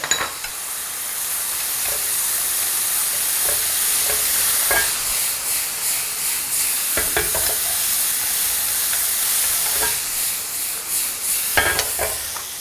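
Button mushrooms stir-fried in butter with garlic and shallots make a loud, steady sizzle, broken by repeated scraping and clacking of a spatula against the pan; no voices.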